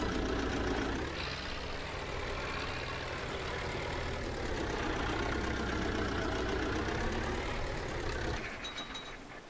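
A tractor engine idles in Farming Simulator 22, a steady low rumbling drone that holds for several seconds and fades slightly at the end, with no talk over it.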